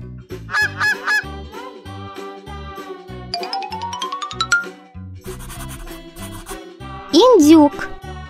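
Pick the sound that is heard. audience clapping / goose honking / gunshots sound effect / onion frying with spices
goose honking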